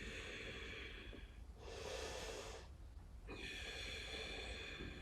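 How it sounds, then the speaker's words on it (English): Slow, deep breaths drawn in and let out through the nose, heard close and soft as a sniffing inhale followed by a longer hissing exhale, repeated twice against a quiet room. "Take a couple deep breaths in and out through the nose,"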